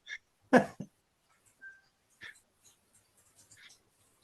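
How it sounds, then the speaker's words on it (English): A dog barks and whimpers at someone at the door in a few short, scattered bursts with quiet gaps between them, fairly faint overall. "Probably hear my dog going nuts."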